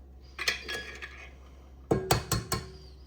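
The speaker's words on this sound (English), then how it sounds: "the next thing we're going to do is add in our eggs, and we've got 2 eggs" Two eggs cracked into cake batter in a bowl for a hummingbird cake, heard as faint clinks and taps against the bowl, a few early and a tight cluster of sharper knocks later, with no voices.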